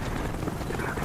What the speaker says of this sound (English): The helicopter's coming back around.